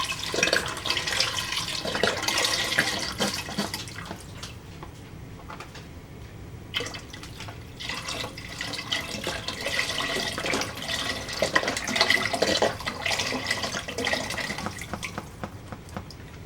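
Water and broth pour into a soup pot for Italian tortellini soup, a close, steady splashing stream that eases briefly midway and then resumes.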